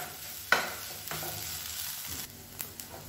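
Ground coconut being stirred into cooked eggplant in a pan over a medium flame, a soft faint sizzle with a few scraping strokes and clicks, close and quiet, no talking.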